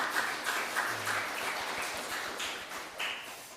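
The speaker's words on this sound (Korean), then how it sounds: "우리 옆에 있는 분들 박수로 환영하겠습니다." Members of a Korean church congregation at a Sunday worship service in Darmstadt clap together to welcome visitors, a dense, even round of applause that holds steady at moderate loudness for several seconds, with no speech.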